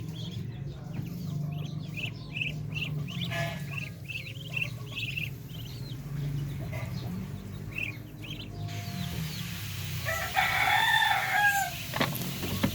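Native chickens cluck steadily alongside peeping chicks, with a rooster crowing partway through and a brighter crow near the end, all over a constant low farmyard rumble.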